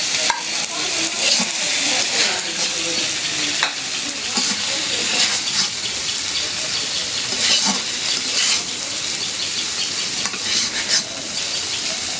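Banana blossom fries with black cumin in plenty of mustard oil in a wok: a continuous crackling sizzle with repeated stirring scrapes and light utensil clinks throughout.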